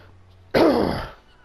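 A man clears his throat once with a short, rough cough, a close and fairly loud burst that fades over about half a second.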